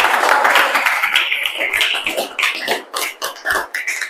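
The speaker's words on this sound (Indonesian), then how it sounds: "tepuk tangan untuk Aulia" A small class claps for a student, a close, uneven patter of hands that starts dense and thins into scattered separate claps toward the end.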